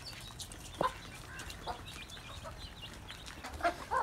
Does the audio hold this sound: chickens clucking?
yes